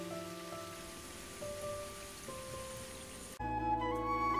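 Rain falls steadily on a rainy day, a soft continuous patter with some tonal hum and a sudden shift in the background near the end.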